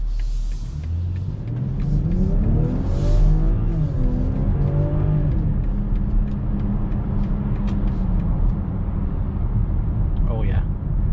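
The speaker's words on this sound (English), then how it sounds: "Downshifting is nice and quick." 2022 BMW X5 SUV heard from inside: a steady low engine rumble that rises and falls in pitch through acceleration and quick downshifts, with road noise and a person talking over it.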